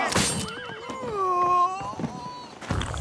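A video game horse neighs in a long, wavering whinny, loud and close, with clattering thuds and muffled noise around it.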